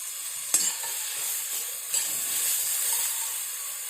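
Onion, garlic and ginger sizzling in a pan for moong ghugni, a steady frying hiss broken by two sharp clinks of a utensil being stirred through, with no talking.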